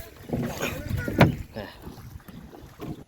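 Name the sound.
rowing a boat on monsoon floodwater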